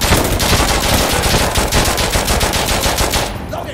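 Rapid automatic gunfire from a picked-up weapon in a multiplayer shooter video game, a loud, continuous burst of evenly spaced shots that stops abruptly near the end.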